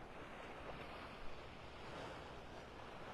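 Ocean surf rolling onto a beach in North Naples, Florida, early in the morning: a continuous broad wash of waves with light wind noise, steady and moderately close, no voices.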